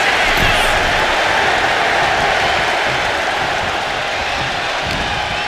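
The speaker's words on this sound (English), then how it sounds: "Listen to this crowd" Large wrestling arena crowd at WWE Smackdown roaring and cheering continuously, a dense, loud wall of crowd noise that stays steady throughout without any break.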